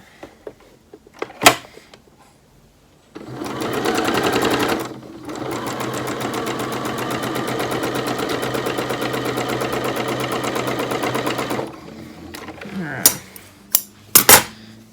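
A sewing machine runs steadily for about eight seconds, stitching fabric with a fast, even mechanical chatter, framed by a few sharp clicks and knocks before and after.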